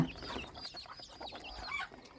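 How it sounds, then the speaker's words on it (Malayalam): Several chickens, including three roosters, cluck and chatter in a steady, overlapping stream, with a few sharper calls rising above the flock. "ഇതിലൊരു മൂന്ന് പൂവന്മാരുണ്ട്"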